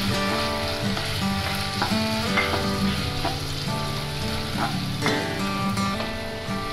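Eggs dropped into a hot pan for homemade chicken noodles fry with a steady, dense sizzle, close and continuous, with a few light stirring scrapes over the hiss.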